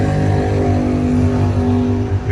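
A drag racing truck, freshly back from a transmission rebuild, runs its engine with a loud, steady low rumble and a slight surge in pitch near the end.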